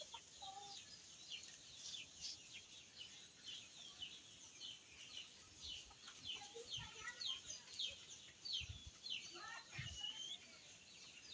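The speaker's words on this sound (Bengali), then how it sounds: "মুরগি।" Chickens cluck intermittently in a rural outdoor setting among coconut trees, with a steady chorus of birdsong and insects behind, a few louder nearby clucks standing out toward the end.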